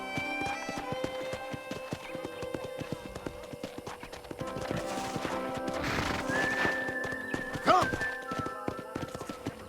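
Rhythmic clip-clop of horse hooves trotting in Red Dead Redemption, joined midway by a loud neigh, with game-style background music and effects underneath.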